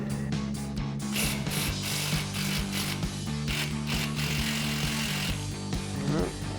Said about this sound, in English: So now we'll remove our two caliper bolts with our 13mm socket.